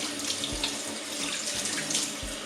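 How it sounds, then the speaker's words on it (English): Running tap water pours steadily over a cucumber being washed in a kitchen sink, a continuous close hiss with small splashes and shifts in the flow as the vegetable moves under the stream. "Now we'll give the cucumber a good wash as well,"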